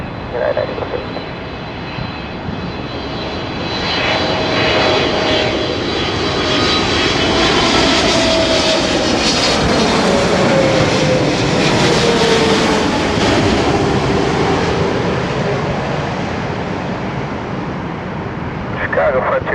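An American Airlines Boeing 777, a heavy twin-engine jet, landing at Chicago O'Hare, its engine roar swelling loudly as it passes close, then easing off; a steady whine rides over the broad rumble, with faint radio chatter beneath.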